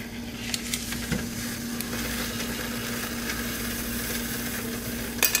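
Butter sizzles softly in a hot cooking pan beside a steady low kitchen hum, with a few light clinks and a faint crackle in the background.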